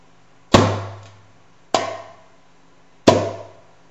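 Djembe struck with alternating hands in a beginner exercise, three loud separate slaps spaced about a second apart, each ringing briefly with a low drum tone before decaying, close and alone.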